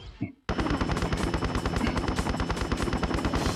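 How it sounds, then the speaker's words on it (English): A helicopter's rotor chops loudly and continuously after a brief quiet start, with rapid rhythmic thumping and engine whine close by, in the video game Tomb Raider Chronicles. "I'm just standing there getting wasted by this helicopter"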